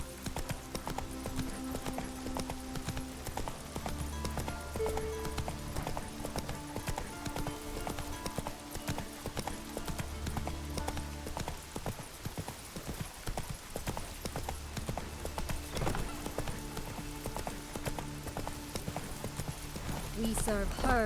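Roach, the horse in The Witcher 3: Wild Hunt, gallops in steady, close clip-clop hoofbeats that run through the whole stretch, with game music and a voice talking over them.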